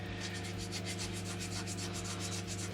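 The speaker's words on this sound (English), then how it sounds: "All I'm doing is going through finer and finer grits now" An epoxy resin pendant holding a Roman coin is sanded by hand with progressively finer grits. The strokes are quick, rhythmic and close, with a low steady hum underneath and no talking.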